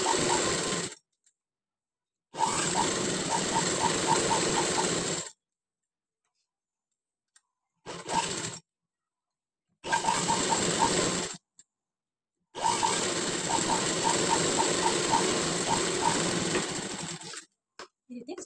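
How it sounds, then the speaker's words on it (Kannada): A sewing machine stitches canvas patchwork in several bursts of rapid, steady whirring and ticking, broken by silent pauses, with the longest run near the end. "ಈ ರೀತಿ ಇಟ್ಟು ನೀವು ಸ್ಟಿಚ್ ಹಾಕೊಳ್ಳಿ."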